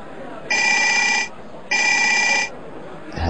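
A Nokia N-Gage handheld console rings as a phone, giving two loud, even electronic ring bursts of almost a second each with a short gap between them, followed by the start of a voice.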